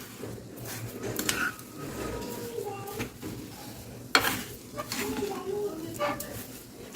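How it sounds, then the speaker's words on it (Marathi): Sugar is stirred into a mango puran filling in a pan, giving soft, irregular scrapes and clinks of a spoon against metal, fairly faint and close. "आपण साखर टाकल्यावर पण याला मस्त मिक्स करून घेऊ."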